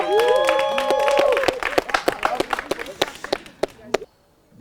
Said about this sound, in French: On peut les applaudir. Bravo.